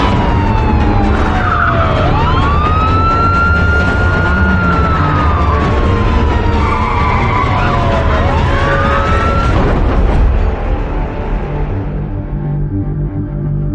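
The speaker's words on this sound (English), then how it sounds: "I flipped on the siren and started chasing him." A police car siren wails in long rising and falling sweeps during a pursuit of a stolen truck, loud and close over steady engine and road noise, fading near the end.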